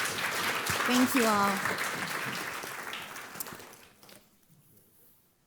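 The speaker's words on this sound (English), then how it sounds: "Please give them a round of applause" Audience applause at a food-is-medicine summit, a broad wash of clapping that fades gradually over several seconds while a speaker talks over it.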